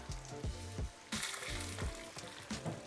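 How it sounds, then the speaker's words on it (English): Coriander seeds and dry red chilies fry in a pan for a traditional Goan dish, with a continuous close sizzle broken by a few short clattering stirs against the pan. "And now just fry these ingredients till the chilies become nice and"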